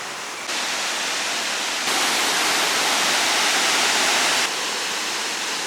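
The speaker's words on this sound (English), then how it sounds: "The second waterfall is much quieter, there's nobody else here" Waterfall near Pucón, Chile, a steady loud rushing roar of falling water, nearby and continuous, with no voices.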